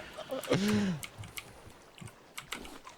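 Keys on a computer keyboard are typed in scattered clicks, fairly close, while people talk and a brief whoop-like sound rises over them.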